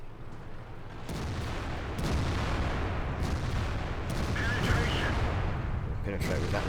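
The IS7 heavy tank's main gun fires in World of Tanks, with several loud, booming cannon blasts spaced a second or so apart over constant engine rumble and someone talking.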